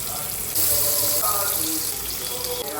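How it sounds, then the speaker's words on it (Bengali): Potatoes frying in hot oil for a Bengali Ekadashi sabudana pulao, a steady broad sizzling hiss that stays loud and close throughout with no talk over it. "তেল এসেই গেছে, এবার আলুগুলো ভেজে নিই।"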